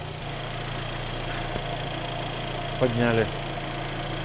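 A car engine idles while warming up before an oil change, giving a quiet, steady low hum with a faint rhythmic tick. A brief spoken word cuts in near the end.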